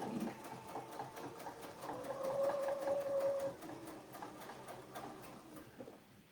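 A sewing machine stitches steadily around a five-inch Winding Way quilting template, a close, even mechanical whir with rapid regular needle beats that swells midway and then eases off.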